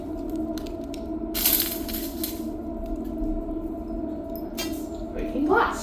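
Cooling lava at a lava show in Reykjavik, Iceland, crackling like breaking glass: a few sharp, crunchy bursts over a steady low roar, close and moderately loud, with no talk.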